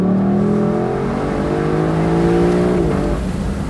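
A 2024 Lexus LC500 V8 revs hard in Sport Plus mode, a loud, continuous, rising engine roar with layered harmonics that climbs and holds before easing off near the end, with no talking over it.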